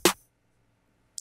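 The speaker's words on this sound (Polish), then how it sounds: "Do tego mamy snare numer 1," A single snare drum sample in FL Studio cracks out once, short and bright, and then silence follows until a faint click at the very end.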